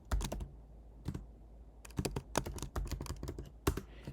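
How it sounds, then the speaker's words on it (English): Fast bursts of clicking keystrokes on a computer keyboard, close and fairly quiet, arriving in irregular clusters separated by short pauses. "so I'll type that"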